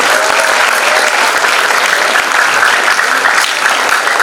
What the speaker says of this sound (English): Now, let's have a big round of applause for all the ways of human world.